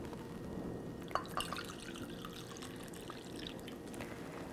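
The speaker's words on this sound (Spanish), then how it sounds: "Vamos a agregar, tengo aquí de la misma agua caliente de los chiles, esta voy a usar." Hot water from soaking chilies is poured onto soy while making vegan soy chorizo, a soft steady liquid pour and trickle with a few small drips, quiet and close, with no talking.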